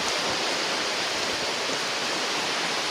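Water rushing steadily through an irrigation canal in heavy typhoon rain, a loud, continuous broadband roar with no break and no voices.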